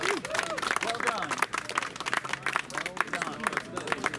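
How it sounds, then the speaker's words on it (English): An audience at a public speaking club in Covent Garden clapping, a dense patter of many hands close by, continuing steadily for a few seconds with a faint murmur of voices underneath. "Applause for Sylvia"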